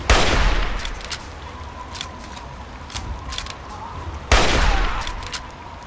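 Two loud gunshots ring out in Fallout 3, each a sharp crack followed by a decaying echo, the pair separated by several seconds of quieter ambience.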